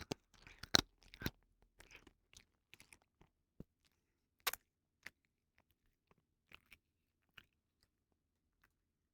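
A cat crunching dry food right beside the microphone, a string of sharp, irregular bites and crackles, loud at first and then sparser, with near silence between them and no talking.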